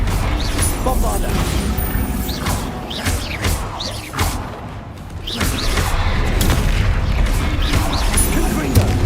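Bombarda blasting-spell explosions from the video game Hogwarts Legacy boom repeatedly over dense combat noise, with loud impacts and crashes layered under shouted spell names.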